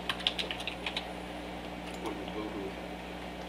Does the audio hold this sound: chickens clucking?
no